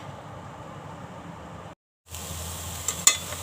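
A sugar and grated coconut mixture stirred in a pan over a low flame, soft continuous sizzling and scraping, cut by a brief silence, then resuming with a few sharper clicks of the spoon.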